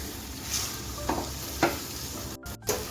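Aloo posto, potatoes with poppy seed paste drying out in a pan, sizzles softly while a spatula scrapes and stirs in a few distinct strokes, close and fairly quiet, with no speech.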